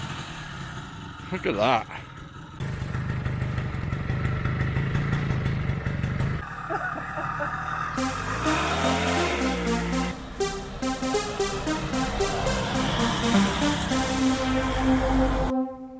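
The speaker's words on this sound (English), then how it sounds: "starting the bike" A small 1960s NSU Quickly 50cc motorbike engine catches and runs with a buzzy, rattling two-stroke drone that rises and holds steady for several seconds, with people talking over it.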